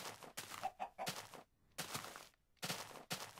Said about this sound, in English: I feel sorry for you, chicken.